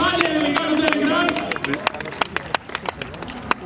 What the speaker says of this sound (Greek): Ένα πολύ πολύ δυνατό χειροκρότημα